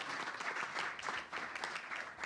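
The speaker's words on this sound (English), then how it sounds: "Can we give Adam a round of applause here for all his hard work?" An outdoor audience at a World Ocean Day event at the Port of Hueneme gives a round of applause, a quiet, somewhat distant patter of clapping that swells and dips in uneven waves.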